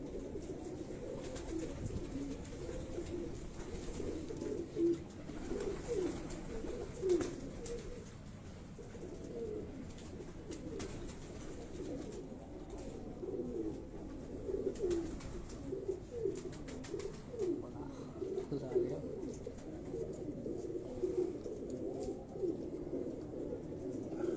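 Pigeons on a rooftop coo softly and repeatedly in low, throaty rolls, with faint background noise throughout.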